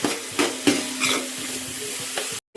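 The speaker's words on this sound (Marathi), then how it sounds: "तेलामध्ये आता घालायचं आहे आपल्याला खडे मसाले, कांदा, टोमॅटो आणि मिरची घातलेली आहे. तळून घ्यायचं." Whole spices, onion, tomato and chilli frying in hot oil in a pan for chicken biryani, a steady close sizzle broken by a few sharp stirring scrapes, with no talking.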